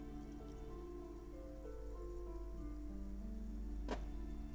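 Steady rain falls in the video game Disco Elysium, a soft continuous patter under low ambient music tones, with one brief brighter splash or knock near the end.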